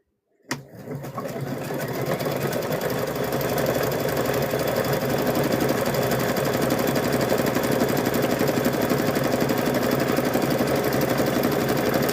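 A sewing machine stitching patchwork fabric for a gnome quilt starts abruptly after a brief silence, then runs in a fast, continuous mechanical chatter, close and steady, alone without talk.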